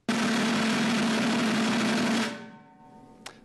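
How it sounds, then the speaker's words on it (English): A snare drum roll played with pinched sticks and forced strokes, a dense, harsh, buzzing wash lasting about two seconds before cutting off, followed by a faint ringing tail and a single sharp tap at the end. "If you pinch the stick and force the roll, it sounds like this."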